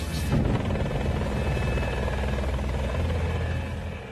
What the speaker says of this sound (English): The commandos fly in on 4 MH-6 helicopters, known as Little Birds because of their small size.